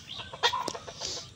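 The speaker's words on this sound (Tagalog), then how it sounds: "Native na manok. Maliliit ang buntot," Native chickens clucking nearby in a short burst of soft, quick clucks over quiet background.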